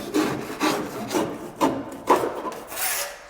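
Trimming protruding sheetrock at an interior door opening: about six rough, rasping strokes in a steady rhythm, close and moderately loud with no voice.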